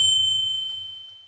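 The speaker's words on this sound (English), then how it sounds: "A tiny bell rang." A single tiny bell strikes once with a bright, pure ring, then its clear tone hangs and slowly fades over about a second, close and alone with no voices.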